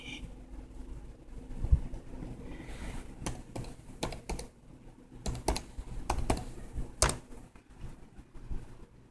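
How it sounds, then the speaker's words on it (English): Typing on a computer keyboard with one hand, irregular clusters of close, crisp key clicks with pauses between bursts, quiet room. "I'm not really good at typing with one hand."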